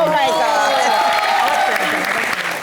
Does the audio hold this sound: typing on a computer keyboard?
no